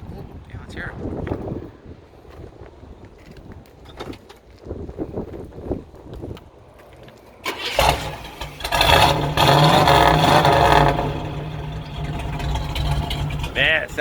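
A 1969 Chevrolet Camaro SS with a new 454 crate engine starts up and settles into a loud, rumbling idle, following several seconds of quiet background and mixed with wind noise.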